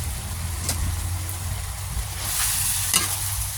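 Pork stir-frying with holy basil in a hot pan for Thai pad kaphrao, a steady sizzle with a few scraping stirs of the spatula, close and alone.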